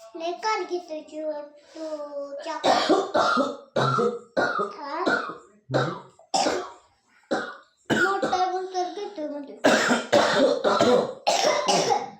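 A mother coughs at home, several sharp coughs and throat clearing coming in bursts between stretches of talk that includes a voice.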